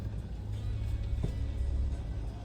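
A Maruti Suzuki Grand Vitara engine hums with a steady low rumble from inside the car, moderately loud and continuous throughout, with one brief sharp click partway through and no voices.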